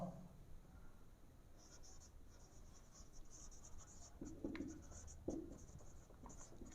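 Pen writing a heading on paper during a handwritten accounting lesson, a faint continuous scratching with a few short strokes, quiet and close, with no talk over it.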